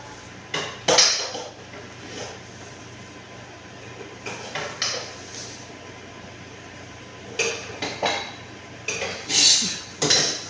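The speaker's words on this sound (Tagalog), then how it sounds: "Nagbubungkal ng mga kaldero." Metal cooking pots clank and rattle in scattered bursts as an animal rummages through them, with quiet pauses between bouts of clattering, close by and without talk.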